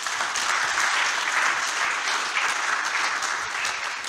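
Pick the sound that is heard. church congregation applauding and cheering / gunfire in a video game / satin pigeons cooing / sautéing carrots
church congregation applauding and cheering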